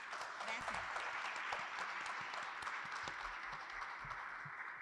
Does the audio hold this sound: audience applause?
yes